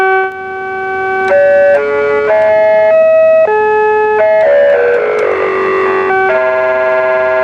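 A circuit-bent Casio electronic keyboard plays wavering, buzzy, glitchy synthetic tones that step between pitches and warble unevenly, loud and close, with no talking.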